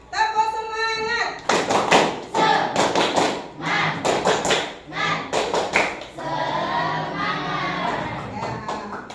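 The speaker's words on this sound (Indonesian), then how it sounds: "Ayo sekarang tepuk semangat dulu biar tambah semangat." A classroom of children performing a rhythmic tepuk semangat clapping routine, bursts of patterned claps and taps in quick groups, with young voices chanting along between the claps.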